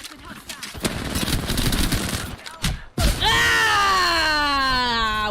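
Video game gunfire rattles in rapid automatic bursts for about three seconds, then breaks off into a loud sustained whine.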